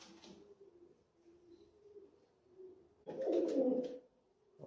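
Fancy show pigeons at a home loft coo in low, steady murmuring rolls, swelling into a louder, fuller burst of cooing near the end before settling again.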